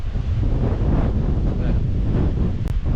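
Strong wind buffets the microphone on an exposed hilltop among trees after rain, a loud continuous low roar with gusty swells throughout.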